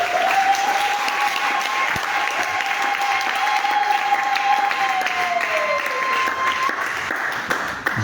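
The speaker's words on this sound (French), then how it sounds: "Oui, vous pouvez vous applaudir." A congregation applauds after a Mass in a cathedral, steady sustained clapping filling the space for several seconds while a sung or held tone carries over the top.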